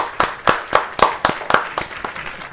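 A small studio audience greets a guest on a talk show with about ten evenly spaced, crisp claps close by, fading after two seconds.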